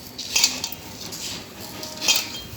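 Utensils scrape and clink against a bowl as chakli flour is mixed with red chili powder, two louder clattering bursts rising over soft stirring, close and with no talking.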